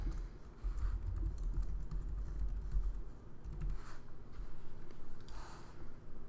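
Someone enters a password on a computer keyboard, producing a run of close, soft key clicks at an uneven pace over a low background hum, no talk.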